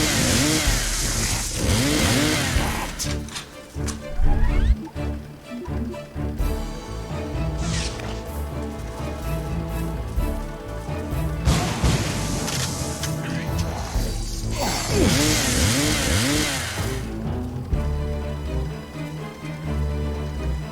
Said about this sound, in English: There's nothing cooler than a chainsaw in a zombie game.